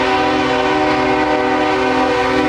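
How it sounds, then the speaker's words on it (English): A coal train led by two BNSF SD70ACE locomotives rolls past, a steady, loud, close mechanical drone with a sustained tonal hum throughout. "Here's another one of the run-through coal trains with some more run-through power."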